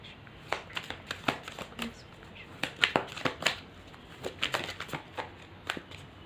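Tarot cards are shuffled and drawn by hand, a close series of soft snapping flicks and papery slaps coming in uneven clusters over a quiet room.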